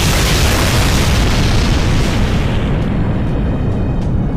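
A loud, sustained roaring blast of explosion noise from the game Fate/Grand Order fills the whole clip, dense and rumbling with crackling texture, easing slightly toward the end.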